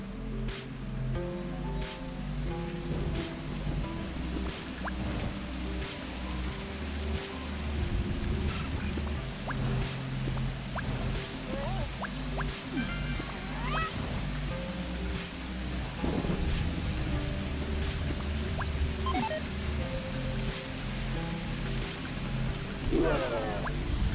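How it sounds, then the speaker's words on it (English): Steady rain falls in the Spaceport Janitor video game, a continuous dense patter mixed with low rumbling game ambience and scattered sharper drops throughout. "Rainy days definitely kind of suck though, because like, you really cannot hear that much"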